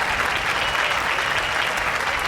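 A crowd claps and applauds steadily for a couple of seconds, a dense, even burst played as a sound effect on a comedy show, with no voices over it.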